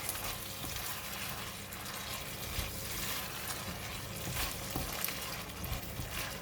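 Prawns stir-frying in Thai red curry paste give a steady, close sizzle, with soft scraping and shuffling as the pan is stirred throughout.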